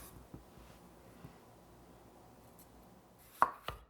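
Quiet knife taps on a cutting board while potatoes are cubed for potato soup, a few faint soft chops followed by two sharper, closer cuts near the end.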